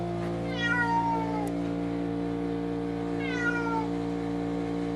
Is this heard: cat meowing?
yes